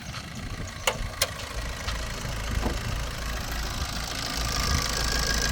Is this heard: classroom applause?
no